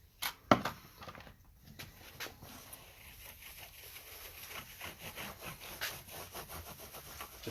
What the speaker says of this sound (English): Just rub that in.